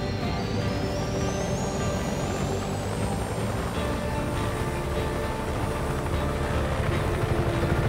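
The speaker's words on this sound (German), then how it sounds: "Jetzt versuchen wir mal, Heli zu fliegen" A helicopter flies in the video game Just Cause 3, its rotor and engine roar loud, close and unbroken, with a whining tone that slowly rises as it gains power.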